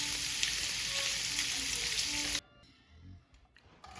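Cajun sausage frying on medium heat in a pot for jambalaya sizzles loudly and steadily for about two seconds, then stops abruptly, leaving only faint, quiet kitchen noise.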